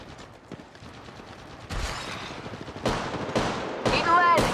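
Gunfire in the mobile shooter Apex Legends Mobile arrives as several separate bursts of shots that grow louder and denser over the stretch, with rattling automatic fire near the end.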